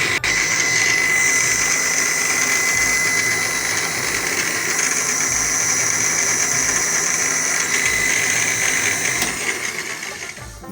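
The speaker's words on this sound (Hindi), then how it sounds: "कड़ी के लिए मिर्चें ग्राइंड हो रही हैं।" An electric kitchen grinder whirs loud and steady, blending chilies for kadhi in a home kitchen, with a high motor whine and a slight dip in pitch toward the end.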